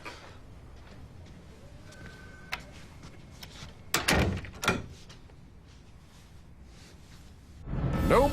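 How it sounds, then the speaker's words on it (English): A newly installed door is opened and closed, giving two sharp knocking thuds close together in a quiet room, followed later by a rising rustle of movement. "I got a new door."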